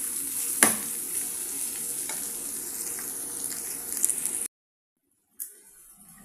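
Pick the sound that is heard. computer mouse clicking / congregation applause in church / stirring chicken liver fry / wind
stirring chicken liver fry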